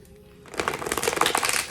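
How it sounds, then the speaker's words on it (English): Tarot cards being shuffled by hand, a quiet start giving way to a dense run of close, crisp riffling and flicking card noise with no talk over it. "let's go ahead and like shuffle the cards some more"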